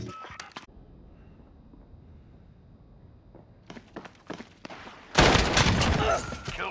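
Video game gunfire: a few sharp shots at the start, scattered single cracks, then a loud sustained burst of automatic fire near the end, with brief game voice lines.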